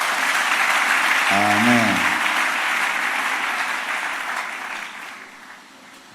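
Applause from a church congregation at a sermon, a broad steady clapping wash that swells and then tapers off, with a brief voice over it partway through.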